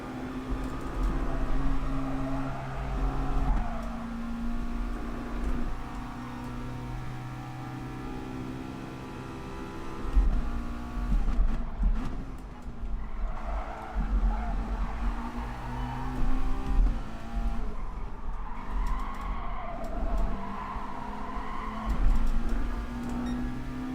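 A McLaren Group 4 race car at the Nürburgring in Gran Turismo Sport, its engine droning steadily and shifting pitch through gear changes and throttle lifts, loud and near for the whole stretch.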